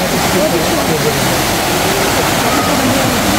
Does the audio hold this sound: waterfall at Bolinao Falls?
yes